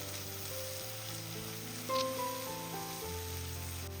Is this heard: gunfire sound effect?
no